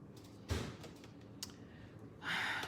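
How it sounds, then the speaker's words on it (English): Keyboard typing clicks in a home crafting space, a few scattered taps early on followed by a denser burst of rapid keystrokes near the end, fairly close but quiet. "Sharon, you still typing, girl?"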